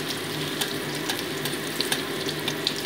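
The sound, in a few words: dried red chilies frying in hot mustard oil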